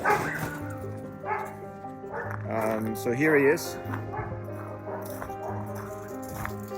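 Several dogs behind a gate bark, yip and whine repeatedly, eager to come out, while someone talks over the noise nearby.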